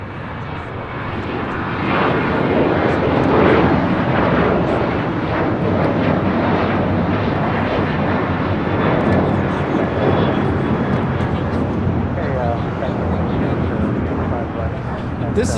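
An Alaska Airlines Boeing 737-900 takes off at LAX, its jet engines producing a loud, sustained broadband roar that builds early and holds steady throughout, with voices talking faintly underneath.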